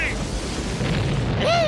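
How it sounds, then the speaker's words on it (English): Loud, booming blasts from a military explosion sound-effects CD fill the short stretch, a heavy rumbling burst that stays dense throughout, with a brief voice-like tone near the end. "My favorite CD! Military Explosion!"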